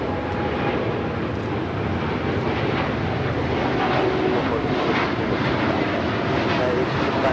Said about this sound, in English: United Airlines 1855 taking off to Newark on the 787-9 Dreamliner